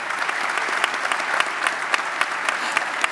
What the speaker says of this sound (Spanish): Un aplauso, por favor, para todos ellos.